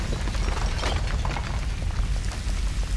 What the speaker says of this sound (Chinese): 哇，这里爆炸可不是闹着玩啊，